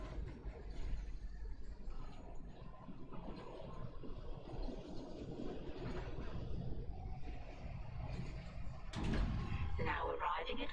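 A tram moves steadily through a sci-fi space station in the Dead Space Remake game, giving a continuous low rumble and mechanical hum that lasts throughout, with a sharp hiss or clank near the end as it pulls in and arrives.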